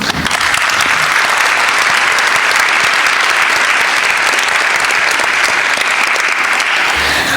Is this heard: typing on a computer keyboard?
no